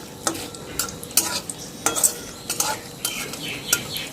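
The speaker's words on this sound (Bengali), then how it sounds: "খুব ভালো মতো করে এগুলো ফোড়নগুলো ভেজে নিচ্ছি" Whole spices sizzle in hot oil while a spoon scrapes and stirs the pan in regular strokes, close and clear, with no talking.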